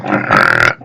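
A single loud, rasping snore read aloud from a children's story, with a guttural, throaty growl lasting under a second that is most likely a voice imitating the sound.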